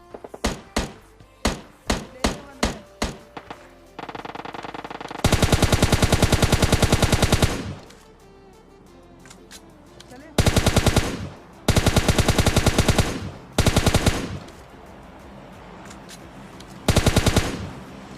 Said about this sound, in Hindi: तभी हमको स्विमिंग पूल के बाहर से किसी के गोली चलाने की आवाज आती है